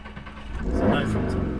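The Prodrive P25 engine turns over and catches, a brief low crank rising into a rumbling idle close by, with people talking over it.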